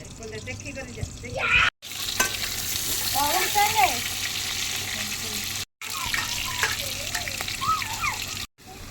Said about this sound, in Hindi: देखु केमती आलू लाल लाल कर भाजी देछि।